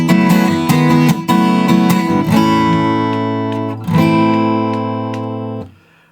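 A guitar plays the chorus of a song: a series of crisply struck chords, several in quick succession, then held chords that ring out and gradually fade to silence.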